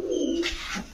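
A single short, throaty coo comes from a pigeon at a pigeon shop selling racer giribaj and fancy pigeons. It is close and clear and lasts about a second.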